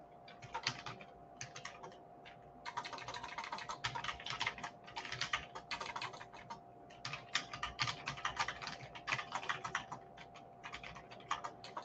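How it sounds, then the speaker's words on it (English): Rapid keyboard typing in bursts of clicks with brief pauses, close by and fairly quiet, over a faint steady hum. "I'm just typing in here,"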